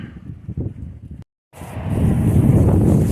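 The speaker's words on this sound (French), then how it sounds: "C'est froid, c'est venteux." Cold, gusty wind buffets the microphone with steady rushing noise, briefly cutting out before roaring back stronger.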